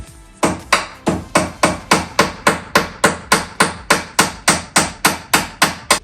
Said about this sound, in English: Nailing wood.